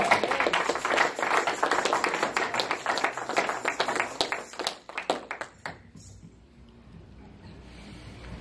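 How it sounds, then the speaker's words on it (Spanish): A church congregation claps in dense, fast applause for several seconds at a Spanish-language service, loud and close, then tapering off into a few scattered claps and a quiet room. "Den un aplauso a Cristo."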